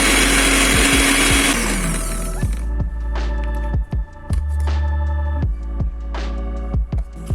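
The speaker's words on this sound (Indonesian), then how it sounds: "Kita blender hingga halus." A blender whirs loudly at high speed, then drops to a lower, lumpy throbbing churn with repeated knocks as the contents spin; no talking.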